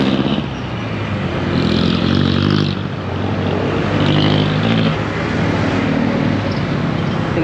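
A Honda ADV160 scooter's engine drones steadily during a ride, loud and close, rising and easing slightly with the throttle amid road and wind noise.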